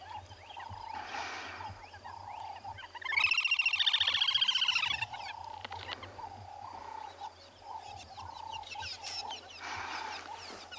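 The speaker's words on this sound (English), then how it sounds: "Isn't that the most lovely, lovely bird call?" A bird calls loudly and repeatedly in a rapid, rising-and-falling series, with quieter bird sounds and outdoor ambience before and after, at a South African game reserve.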